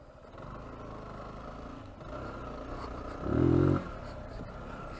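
Zontes 125 GK motorcycle ridden over forest terrain, a low steady engine drone with a short louder rev near the end, heard alone at moderate distance.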